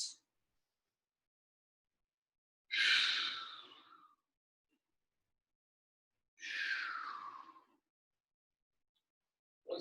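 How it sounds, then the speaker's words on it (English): Two long, deep breaths taken during a hip stretch in a home workout, each a slow breathy exhale-like sigh lasting over a second, separated by silence, close and clear. "let's take 2 deep breaths into the hips"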